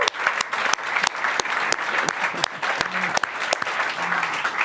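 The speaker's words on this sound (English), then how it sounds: "can we just get a big round of applause for all the behind the scenes people that made this happen?" Applause from the audience at a live Christmas concert, a steady wash of clapping punctuated by a few loud, sharp individual claps nearby.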